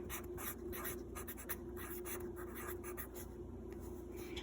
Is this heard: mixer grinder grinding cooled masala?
no